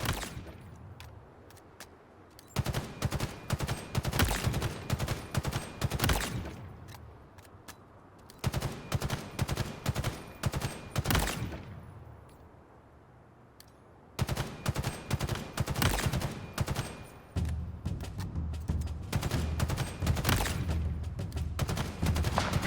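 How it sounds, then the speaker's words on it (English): BR55 battle rifle gunfire in the video game Halo Infinite, loud rapid bursts of shots repeated in several long volleys separated by short pauses. "55 battle rifle obtained. Eliminate the targets."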